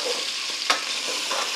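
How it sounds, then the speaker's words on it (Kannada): Drumstick pieces fry in hot oil as a tempering for sambar, giving a steady close hiss with a brief crackling pop partway through. "ಇದು ಒಗ್ಗರಣೆಯಲ್ಲಿ ಈ ಥರ ಎಣ್ಣೆಲಿ ಫ್ರೈ ಮಾಡಿಕೊಂಡ್ರೆ ತುಂಬ ಚೆನ್ನಾಗಾಗುತ್ತೆ."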